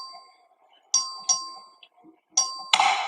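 The clerk rings the voting bell in the Texas House chamber: several sharp electronic dings, two close together then another pair, each ringing and fading quickly over a quiet room.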